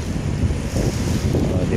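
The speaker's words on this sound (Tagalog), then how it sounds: "gumagalaw na yung ating dagat, no, gumagalaw lang" Waves of Manila Bay moving along the shore, heard as a steady broadband rush blended with heavy wind buffeting the microphone, fairly loud and continuous with no clear breaks.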